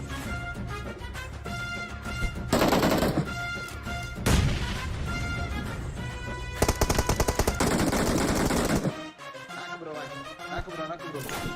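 BGMI game gunfire rattles in rapid automatic bursts with single sharp shots between, loud and close, while a player talks over the fighting.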